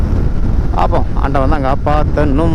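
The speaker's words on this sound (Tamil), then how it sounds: "இப்போ என்னடானா இங்கே கன்னியாகுமரி பைபாஸ் ஏறினோடனே காற்றடிக்குது" Wind roars and buffets against the microphone while riding along the Kanyakumari bypass, a loud, constant rushing under two people talking.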